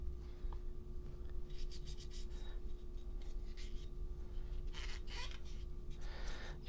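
A used cloth wipes down a dirty Sig P229 Legion pistol, giving soft intermittent rubbing and scraping strokes close to the microphone over a faint steady hum.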